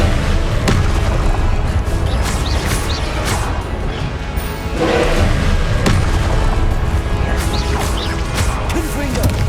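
Repeated Confringo and Expelliarmus spell blasts during a duel in Hogwarts Legacy, a dense run of booming crashes and thuds over a loud, continuous game soundscape with brief vocal callouts.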